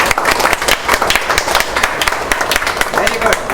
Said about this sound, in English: So I think they deserve a big applause.